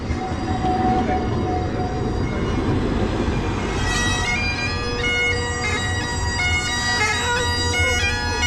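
A tram rolls past close by, a loud continuous rumble of wheels on rails with rising metallic squeals and ringing tones building toward the end.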